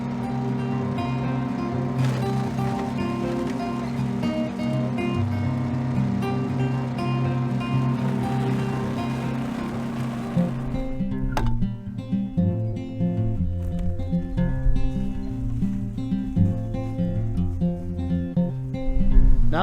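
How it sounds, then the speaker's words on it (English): An Earthquake chipper shredder runs outdoors while plant material is fed through its hopper, a loud, continuous engine drone with shifting grinding tones that turns rougher and more irregular partway through, with no talking. "we're going to be able to put this through the chipper shredder in the hopper and actually shred it up"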